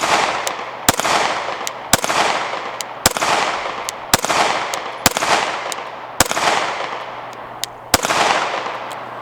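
Sig P320 pistol firing with a Black Steel grip, about nine sharp, loud shots spaced roughly a second apart, each followed by a short ringing decay, outdoors and close.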